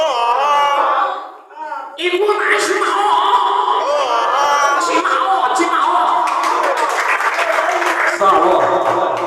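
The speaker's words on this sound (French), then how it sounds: "mais applaudissez pour vous-même" An audience claps and cheers at a lively French comedy show, with whoops and shouts blending into steady applause under a loud voice on a microphone.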